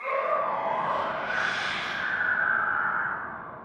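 A Sculk Shrieker in Minecraft lets out a breathy, airy shriek that swells and sustains for a few seconds before fading, heard alone and fairly close.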